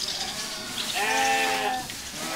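A single sheep gives a clear, wavering bleat lasting about a second, close and fairly loud over a low background hum of a barn.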